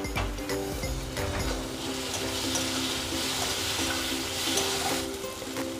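Chopped tomato fries with spices in a pan for tarka dal, a steady, close hiss of sizzling with a few faint scrapes and no talking.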